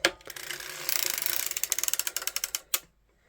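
A hand-cranked circular sock knitting machine gives a fast run of close ratcheting clicks that grows into an even, rhythmic clatter, then ends with a final clack before quiet.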